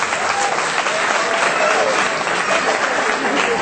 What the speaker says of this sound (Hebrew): הרבה מחיאות כפיים, רבותיי,